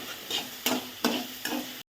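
Sliced okra frying in about two spoons of oil in a pan, a soft steady sizzle broken by three sharp stirring scrapes at regular intervals, close up with no voices, ending abruptly.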